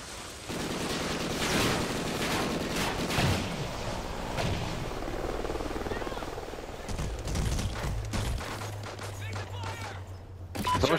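Gunfire in a multiplayer shooter video game, bursts of rapid shots and booms over a steady engine-like drone, with players talking throughout.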